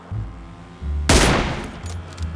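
Gunfire in the battle royale game PUBG, a loud burst of shots erupting suddenly and fading into a rattling tail, with a low rumble of background game noise before it.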